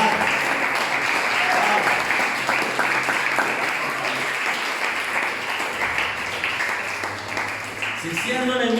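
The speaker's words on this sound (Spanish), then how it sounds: "El aplauso si lo va a dar." A church congregation applauding during a sermon, with dense, loud clapping that continues steadily for several seconds and fades slightly toward the end, when a voice comes in.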